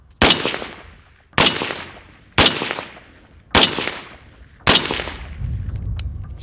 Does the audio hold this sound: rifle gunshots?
yes